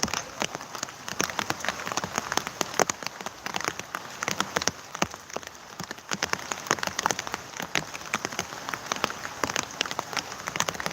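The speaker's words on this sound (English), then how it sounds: "while it's raining." Steady rain falling outdoors at a heavy-equipment yard where a cement mixer is being prepped, a constant dense patter of drops on surfaces at moderate level with no voices.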